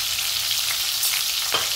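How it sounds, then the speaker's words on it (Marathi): Stuffed capsicum (shimla mirchi) sautés in a pan with a loud, continuous frying sizzle, close and steady throughout. "आता आपल्याला मिरचीला आधी परतून घ्यायचं आहे।"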